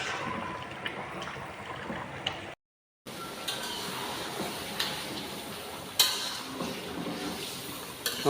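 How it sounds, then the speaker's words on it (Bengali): Chicken curry cooks in a pan with a soft, steady sizzle of frying and occasional scraping clicks from stirring, heard close up at low level. "আমাদের ধীমানদা রান্না করতেছে"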